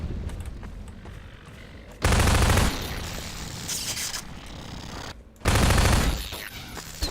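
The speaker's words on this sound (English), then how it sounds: "I should use my machine gun because there are infinite ammo box things" Machine gun fire in Half-Life 2: Aftermath, loud dense bursts of automatic shots with two sharp heavy volleys standing out, each followed by a steadier stretch of game action.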